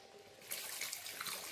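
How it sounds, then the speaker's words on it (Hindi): Water poured into a pan of frying mutton masala, a soft sudden splash and hiss starting midway and continuing briefly, faint and close. "अभी ऐड करेंगे पानी,"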